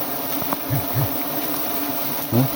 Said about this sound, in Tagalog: Lipad na yung mga pukyutan.